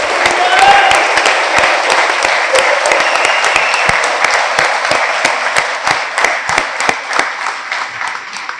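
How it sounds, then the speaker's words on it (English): Applause from the audience at a fire department awards ceremony, a loud burst of many people clapping with distinct sharp nearby claps, gradually thinning into scattered claps toward the end. "Let's give them a round of applause."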